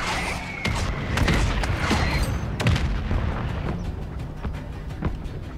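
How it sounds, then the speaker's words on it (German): Booming explosions and sharp gunfire bursts in a Call of Duty Modern Warfare 3 battle, several impacts spread over a few seconds against a rumbling, noisy backdrop. "Explosion habe ich bis hier gespürt"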